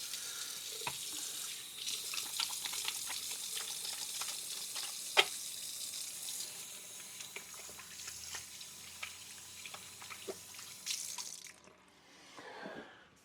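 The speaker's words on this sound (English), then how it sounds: "let me wash my hands really quick" Tap water runs steadily into a sink while hands are washed, a continuous hiss with small splashes and clinks, close by, ending in a brief gurgle.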